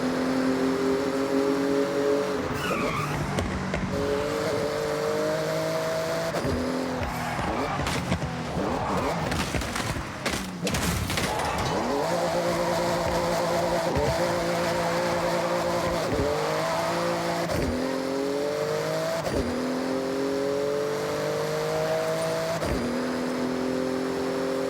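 A Porsche in Forza Horizon 6 floors it through a speed zone, its engine winding up through repeated rising gear pulls with brief shift dips and some tire noise, loud and continuous beneath a voice.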